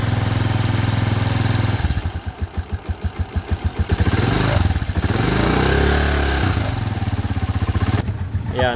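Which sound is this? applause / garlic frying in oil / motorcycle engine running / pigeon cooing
motorcycle engine running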